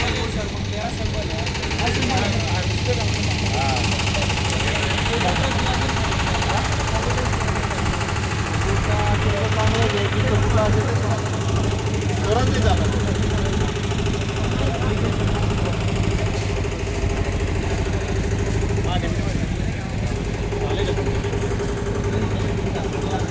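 A farm machine's engine runs steadily at the Moshi agricultural exhibition, a constant loud mechanical hum with busy crowd noise and chatter mixed in throughout.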